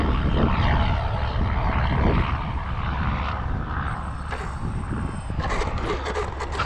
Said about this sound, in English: I'm going to attempt a runway landing and get off the runway